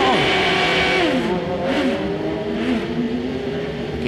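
An on-board race car engine revs and shifts during an American Le Mans Series sports car race, pitch sweeping down and up, loud and close, with faint commentary underneath.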